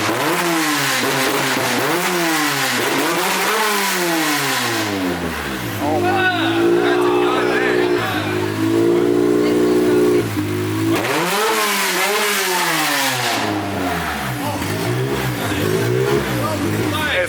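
A Honda K-series engine fires up and revs hard in repeated sweeping rises and falls, then settles to a steady throbbing idle mid-clip before climbing through several more loud, close revs.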